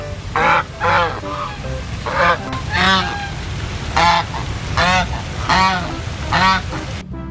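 Repeated loud goose honks, about eight harsh nasal calls in a steady rhythm, sound up close while plastic toy animals are on show, with no other voices.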